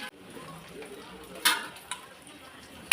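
Chicken 65 turned over and over in frying oil: a steady sizzle with soft scraping, punctuated by a few sharp metallic clinks of a utensil against the pan.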